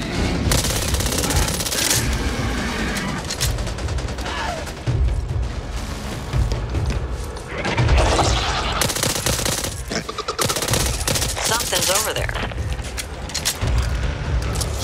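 Dense SMG gunfire in the zombie shooter Back 4 Blood, loud sustained bursts of rapid shots with booms mixed in, nearly continuous across the whole stretch.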